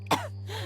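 A woman gives a single short, throaty cough, close and alone against a steady low hum.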